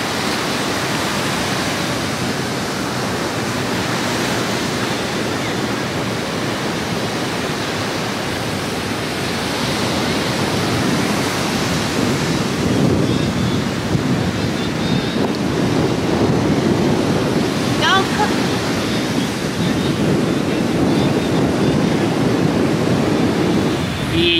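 Ocean surf on a Puerto Rico shore washes in as a steady, roaring hiss, with waves swelling and breaking over about twenty-four seconds, mixed with heavy wind buffeting the microphone and no talking.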